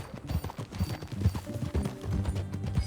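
Horse hooves clip-clop steadily at a ride in the open-world western game Red Dead Redemption II, a close, rhythmic patter of hoofbeats running throughout with low game sounds beneath.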